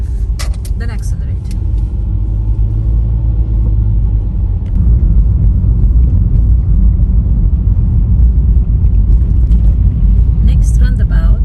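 Car engine rumbling and building steadily during a driving lesson on roads with roundabouts, a continuous low drone that grows slightly louder and holds, with an instructor talking over it.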